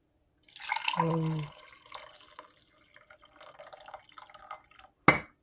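Tea water poured into a cup and then spilled, a short liquid splash at the start followed by scattered drips and trickles and a sharp final splash near the end.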